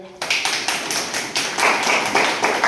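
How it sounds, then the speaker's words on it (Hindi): An audience at a three-day Vedic conference in Tehri claps together in a steady burst of applause, loud and continuous, with sharp accents throughout. "आप लोग अपने लिए थोड़ा ताली बजाएं।"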